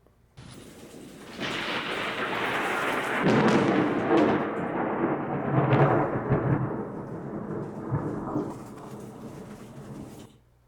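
Thunder after a nearby lightning flash: a sudden loud crack opens into a long, heavy rolling rumble that swells twice and fades out over several seconds.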